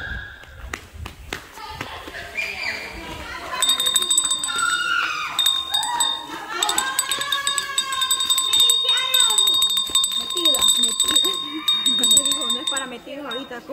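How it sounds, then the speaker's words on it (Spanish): Bright bell tones ring out repeatedly amid a lively clatter of children shouting and playing, with clapping nearby. "¡Campana, campana!"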